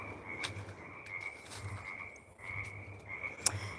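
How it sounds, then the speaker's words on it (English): Frogs croaking at a pond on an evening walk, repeated rhythmic calls with a steady high trill behind them, moderately close, with no talking over them. "You can hear the frogs coming out"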